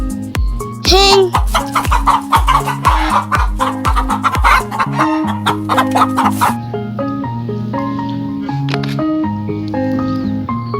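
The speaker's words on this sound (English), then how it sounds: "Hen." A hen clucks in a run of rhythmic, close calls over a steady musical backing track, with the clucking fading out partway through while the music carries on.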